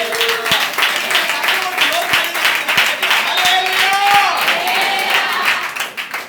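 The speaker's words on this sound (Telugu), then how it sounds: "చప్పట్ల కొడుతూ గట్టిగా చెప్పండి." A church congregation claps hands together in a loud, steady rhythmic burst throughout, with a preacher's voice calling out over the clapping.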